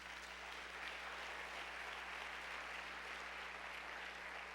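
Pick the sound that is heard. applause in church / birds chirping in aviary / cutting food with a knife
applause in church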